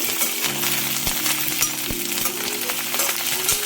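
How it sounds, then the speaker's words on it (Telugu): Ginger garlic paste frying in oil for a gongura prawn curry, a close, dense crackling sizzle with occasional clinks and scrapes of a utensil against the pan, continuous with no voices. "అల్లం వెల్లుల్లి వేగిందండి."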